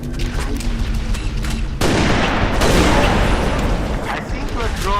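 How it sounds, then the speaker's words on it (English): Gunfire rattles through a Halo Reach battle on legendary difficulty. Dense shots and impacts run loud and continuous, with a sharp burst swelling midway, and a voice speaks briefly under the fire. "I'm under fire!"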